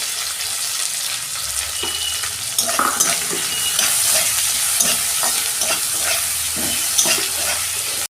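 Grated ginger and tomato frying in hot oil with a continuous close sizzle, broken by stirring scrapes and small clinks of a utensil against the pan.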